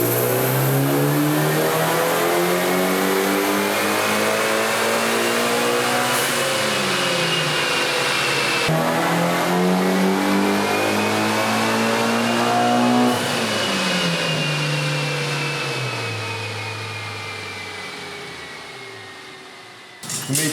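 A Mitsubishi Evo engine revving hard on a dyno, a loud, close, sustained roar that climbs steadily through the gears with brief dips at the shifts, then winds down near the end.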